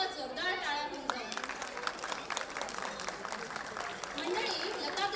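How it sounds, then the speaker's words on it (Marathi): An audience applauds the performers at a Chaitra-month cultural programme, with steady, moderately close clapping throughout and a voice heard briefly at the start. "आपल्या सगळ्या हरहुन्नर कलाकारांसाठी पुन्हा एकदा जोरदार टाळ्या होऊन जाऊ."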